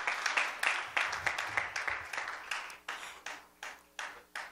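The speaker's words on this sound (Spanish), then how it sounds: "vamos a recibirlo con un fuerte aplauso para Cristo" A church congregation applauds, the clapping falling into a rhythmic, steady beat of many hands that slowly thins out over a few seconds.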